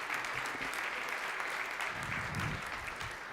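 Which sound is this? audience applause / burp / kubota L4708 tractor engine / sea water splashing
audience applause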